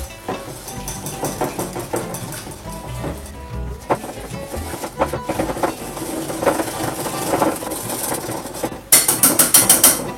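A whisk beating egg yolk, mustard and oil into a mayonnaise-style emulsion, giving a rapid, uneven clicking and scraping against the bowl that runs throughout the clip and ends in a louder burst of quick strokes.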